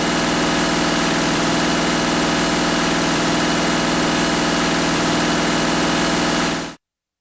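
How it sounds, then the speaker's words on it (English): A Cummins QSL9 diesel engine holds a high idle with a loud, steady drone and even vibration that runs unchanged, then cuts off abruptly near the end. "Run the engine at high idle and record the gauge readings."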